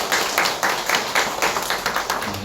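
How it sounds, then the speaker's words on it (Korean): Korean church congregation applauding new members after a prayer, a brief round of fairly close clapping that pulses in loose bursts for a couple of seconds. "우리 두 분 위해서 큰 박수 부탁드리겠습니다."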